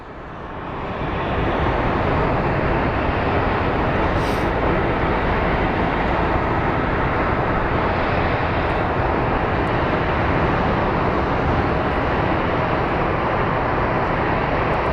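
A jet airliner at an airport builds quickly to a loud, steady broadband roar of engines that holds unbroken to the end.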